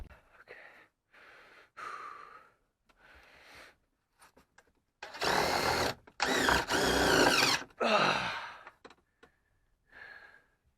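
Cordless power drill driving screws into wooden ceiling supports inside a Ford E350 van conversion, several loud close whirring bursts of varying length, the longest in the middle, separated by pauses with faint breathing.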